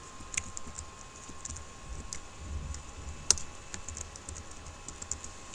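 Typing on a computer keyboard, a run of light irregular key clicks at close range with an occasional sharper tap, no voices.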